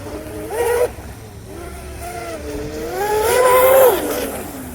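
A twin-motor Deltaforce 29 RC boat with dual counter-rotating 4316 props is blipped repeatedly, giving short rising and falling electric motor whines, a brief burst followed by a longer, louder rev that climbs and then cuts off.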